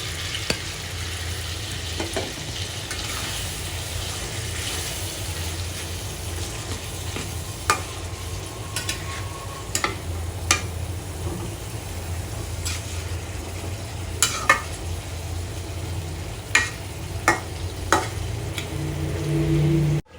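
Fish frying in hot oil with a dried-down spice mix in a pan, a steady low sizzle broken by occasional utensil clinks and stirring scrapes, with no talking.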